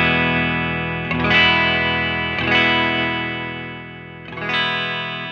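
Fender American Ultra II electric guitar played with the volume rolled almost off through a treble bleed circuit, sounding three loud strummed chords that ring out and decay, with chorus-like shimmer and bright high end.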